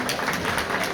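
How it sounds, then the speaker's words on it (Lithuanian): Applause at a school last bell ceremony, a steady wash of clapping from an assembled crowd, continuous and fairly close. "Plojimai palaikyti."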